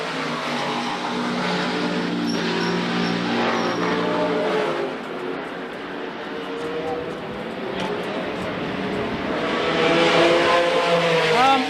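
Onboard a Group C racing car at Brands Hatch, a turbocharged engine stutters and misfires under load, its roar breaking up and surging again, with a commentator talking over it throughout.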